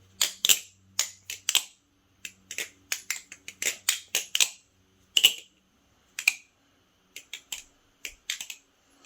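A BBFirefly Talon balisong trainer being flipped, sharp metallic clicks and clacks in quick irregular bursts separated by short pauses, close and crisp with no talking.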